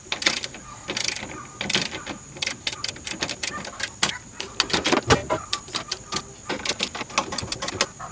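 A ratchet clicks in quick bursts tightening the strut mount bolts on a Volvo 850/S70/V70 front strut, close and crisp with short pauses between strokes.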